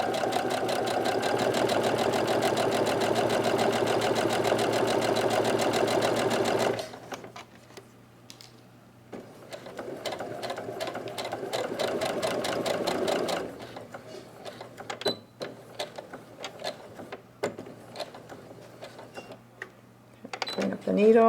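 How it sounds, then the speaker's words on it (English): A sewing machine runs a few stitches and back stitches on a fabric face mask in one long, loud, close burst, then quieter intermittent stitching with clicks and handling sounds. "So I'm going to go ahead and stitch a couple stitches and then back stitch to secure it"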